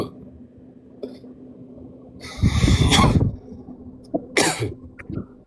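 A person coughs in a couple of harsh, close bursts, with a quieter rasp between them and near silence before and after.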